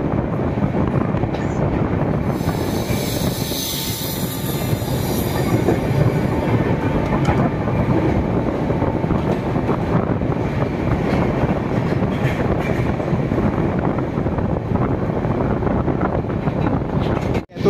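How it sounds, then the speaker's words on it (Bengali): The Kumbh Express rolls along Indian rails at speed, heard from on board as a loud, continuous rumble and rattle of carriages with faint wheel clatter and wind buffeting, steady for the whole stretch. "আমাদের ট্রেন দাঁড়াবে না, আমরা চলে যাচ্ছি"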